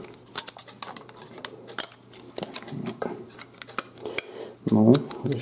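Metal battery cover of a Nokia E52 phone pressed and snapped shut by hand, close and fairly loud, with a cluster of sharp clicks and scrapes ending in a firm snap, over faint room noise.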